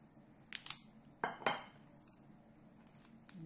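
A utensil scrapes and clinks against a dish while couscous is tossed with grilled vegetables, a few sharp knocks standing out from quieter stirring.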